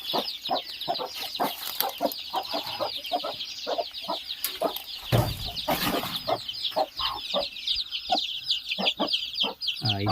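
Chickens cluck steadily in short repeated bursts over a busy bed of chirping birds, with a louder rustling flurry midway.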